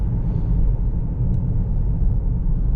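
A 2020 Lincoln Corsair accelerates on the road, its engine a steady low rumble under constant road noise, heard from inside the cabin with no talking.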